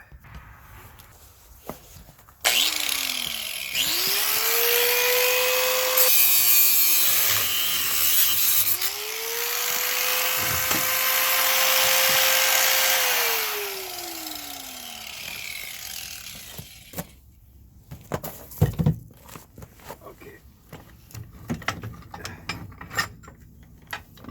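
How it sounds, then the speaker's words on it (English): A grinder cuts bolts off a broken trailer jack. The motor spins up, whines through about twelve seconds of cutting with dips in pitch, then winds down, followed by scattered metallic knocks and handling sounds. "I think I'm going to just grind those bolts off and we'll get at it."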